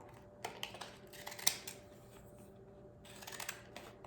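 Wavy-edged scissors snip through paper soap labels in a few quiet, crisp cuts spaced across a faint, hushed room.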